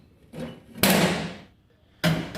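Drawers on a US General tool chest slammed shut, three sharp metallic bangs with the middle one loudest and ringing briefly, separated by short quiet gaps.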